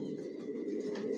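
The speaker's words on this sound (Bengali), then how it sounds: "টপ কোয়ালিটির কবুতর পালি" Racing pigeons coo in a low, soft, continuous murmur, close and steady through the short moment, no talking.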